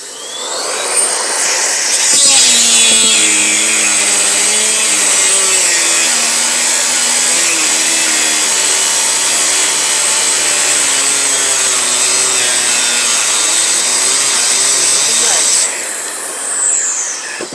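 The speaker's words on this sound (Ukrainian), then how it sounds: "Не вистачає потужності такого, такої болгарки китайської, щоб різати керамограніт." A small cordless Chinese mini angle grinder with a 76 mm disc whines steadily while cutting porcelain tile, straining for power, a high grinding screech that holds for about thirteen seconds before winding down.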